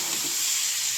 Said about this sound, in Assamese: কোমোৰা ভাজি দিছোঁ